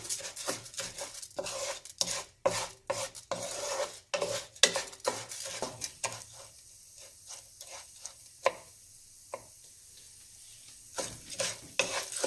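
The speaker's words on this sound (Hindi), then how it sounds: "फोर टू 6 मिनट्स राइस लेंगे टोस्ट होने में, हल्के हल्के से फ्राई होंगे" Rice toasting and frying in a pan for Mexican rice, stirred with a utensil, brings repeated scraping and clinking strokes in bursts over a soft sizzle and no voices.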